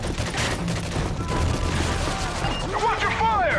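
Gunfire in a Modern Warfare 3 co-op mission, a burst of loud rapid shots up close, followed by crashing debris and whistling effects near the end.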